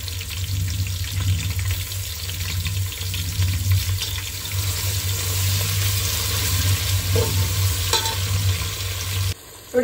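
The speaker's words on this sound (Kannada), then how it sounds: "ನೋಡಿ, ಈರುಳ್ಳಿ ಇವಾಗ ಚೆನ್ನಾಗಿ ಫ್ರೈ ಆಗಿದೆ." Onions fry in a pan for a pulao, giving a loud, steady sizzle with occasional stirring scrapes that runs almost unbroken, then cuts off abruptly near the end with no speech.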